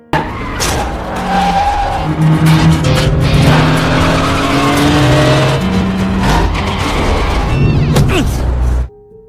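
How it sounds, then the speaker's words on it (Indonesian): A modest car at a street race roars loudly up close, its engine revving and shifting while tires squeal in long, sliding wails that end abruptly. "dengan bermodalkan mobil seadanya, tak disangka Cheng Sun mampu memenangkan balapan itu"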